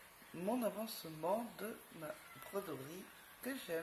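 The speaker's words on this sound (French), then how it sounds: "alors désolé pour le chat, elle est en chaleur et elle miaule." A female cat in heat meows repeatedly nearby in drawn-out, wavering cries, mixed in with someone speaking French indoors.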